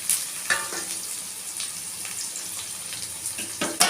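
Onions frying in a pan for chicken gravy, a steady bright sizzle with a few short stirring scrapes and bursts of crackle, close up and alone.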